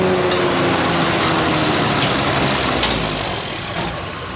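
A semi truck pulls at a tractor pull event, its engine roaring loud and steady under heavy load, with a dense rumbling drone that eases slightly near the end.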